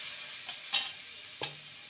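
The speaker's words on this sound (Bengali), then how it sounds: "এবার ভেজে রাখা কুমড়ো আর আলু দিয়ে দেবো।" Pumpkin and potato, fried earlier, stirred into an oily, well-cooked spice mix for a vegetarian chana dal dish: a faint, steady sizzle broken by a few sharp spatula clacks against the pan.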